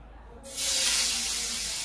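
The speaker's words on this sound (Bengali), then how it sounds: "এবার একটু আমি টফুটা ভেজে নিই" Tofu hitting hot ghee in a pan bursts into a loud, steady sizzle about half a second in, after a quiet start, and keeps hissing evenly to the end.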